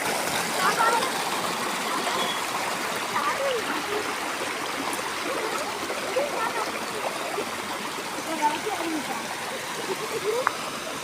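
Spring water trickles and streams steadily into a small pond, a continuous close rushing wash with no talking.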